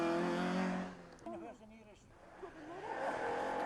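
A Ford Escort Mark II rally car on the Tour of Mull, its engine loud and revving at the start, then dropping away as a commentator talks, then building again.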